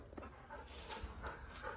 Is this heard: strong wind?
no